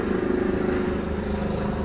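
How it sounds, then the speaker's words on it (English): Steady, loud engine drone of a helicopter or similar aircraft passing overhead during an indoor yoga class, a continuous throbbing rumble that fills the whole moment with no talk. "That sounds like a helicopter or something."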